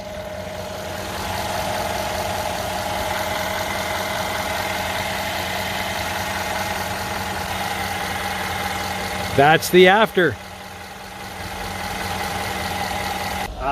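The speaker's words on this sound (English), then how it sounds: "All right, all we do is start her up and let her idle for 15 minutes." A 2013 Mercedes GL450 engine idles with a steady, even hum and faint mechanical ticking, heard close; partway through a person speaks briefly over it before the idle carries on.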